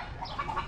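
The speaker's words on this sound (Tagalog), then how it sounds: "Nakawala yung manok. Naputol ang tali oh. Kaya pala pumapagaspas." A loose chicken, its tether snapped, squawks and clucks in short bright bursts close by, with a faint rustle of wings under the calls.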